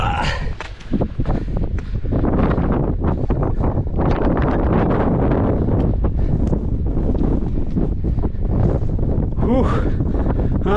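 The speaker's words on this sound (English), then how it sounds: "That's a nice cool wind." Strong wind buffets the microphone on an open moorland hike along the 40-mile Lyke Wake Walk, a loud continuous rumble with gusts, while people speak briefly beneath it.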